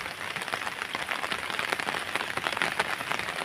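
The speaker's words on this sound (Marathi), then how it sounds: "पावसाचे रिमझिम धारा पण आहेत" Light drizzle falls over farm fields where paddy seedlings are being pulled and land ploughed, a dense even patter of many fine drops with no clear pauses or voices.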